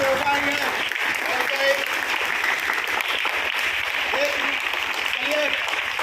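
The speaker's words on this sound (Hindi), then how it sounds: "चलिए एक बार जोरदार ताली" A crowd at a school yoga session claps steadily and loudly throughout, sustained applause with a few voices calling out underneath.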